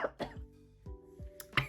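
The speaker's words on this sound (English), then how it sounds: "I think this wig is making me cough." Someone coughs several times in quick, dry bursts, close and fairly faint, with short gaps between each cough.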